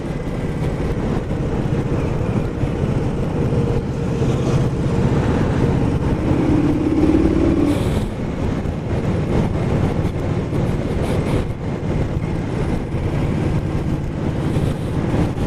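An Indian Scout motorcycle cruises in sixth gear, a steady, dense engine drone mixed with wind rush that holds constant throughout with slight swells.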